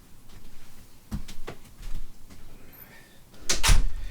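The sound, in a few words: door being closed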